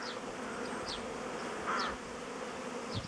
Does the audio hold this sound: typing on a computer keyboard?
no